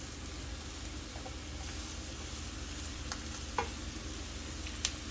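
Diced white onions sauté in a pan with a continuous, close, hissing sizzle and a couple of faint stirring clicks, no talking.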